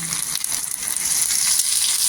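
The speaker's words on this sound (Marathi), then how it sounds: "लसूण पण इथं तडतडली पाहिजे" Garlic and cumin sputtering in a little hot oil for a tadka, a bright crackling sizzle with scattered pops that grows slightly louder, close up and without talking.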